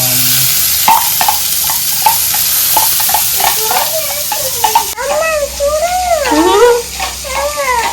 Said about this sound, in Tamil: அடுத்து நம்ம பச்சை மிளகா போடுவோம்.